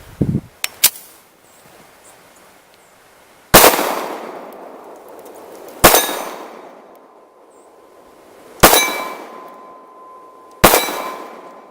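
Shots from a Kimber 1911 TLE II in 10mm at a 12-inch steel plate 25 yards away: a few quick pops, then four loud, spaced reports, each followed by a ringing clang that decays slowly.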